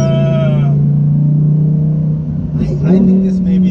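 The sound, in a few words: Lamborghini car engine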